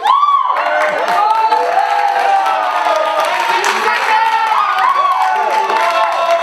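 A live audience at an improv-theatre match final cheers, whoops and shouts in a loud, sustained crowd roar that rises in waves, with children's voices audible among the shouts.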